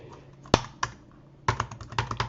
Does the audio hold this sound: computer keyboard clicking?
yes